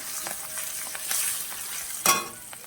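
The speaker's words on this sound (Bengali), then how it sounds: "জিরের গুঁড়ো দিলাম অল্প করে। জিরে গুঁড়োটা তেলে দিতে হবে" Capsicum and cumin powder sizzle in hot oil for a potato dum, a steady close crackling fry with a brief sharper spatter near the end and no talking.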